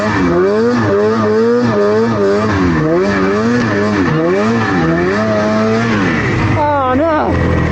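A snowmobile engine revs hard in deep backcountry snow, its pitch repeatedly climbing and dropping in loud, close surges as the machine spins out on a rock, ending in a final high rev.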